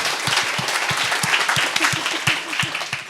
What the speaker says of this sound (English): Can we just do like a round of applause for that?